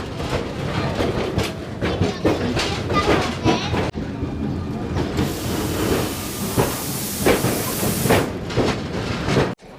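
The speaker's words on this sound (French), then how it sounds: "c'est le fameux petit tram qui traverse Solaire et qui descend jusqu'à Port de Sawyer" The small Sóller tram in Mallorca rolls along its rails with steady rumbling and repeated clicking wheel noise, plus a burst of hiss, while people talk nearby.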